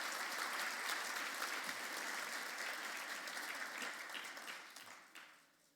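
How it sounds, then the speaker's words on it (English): An audience at a business plenary breakfast applauds staff and interns, a dense, even round of clapping that holds steady and then fades away over about five seconds. "Let's give them a round of applause."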